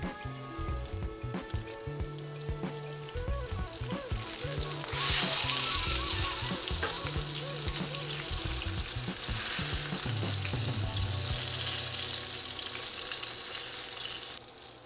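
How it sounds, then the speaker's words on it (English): A halibut fillet searing in a frying pan, a loud continuous close sizzle that swells and crackles in bursts, with some sloshing and pan sounds and no talking. "we are finished with pan searing our halibut"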